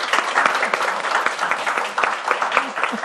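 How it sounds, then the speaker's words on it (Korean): A church congregation claps to welcome a testimony speaker to the front, brisk, close applause with audible individual claps and a few voices mixed in. "박수 부탁드립니다."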